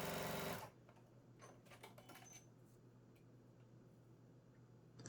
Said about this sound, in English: I'm going to sew right along that side to finish my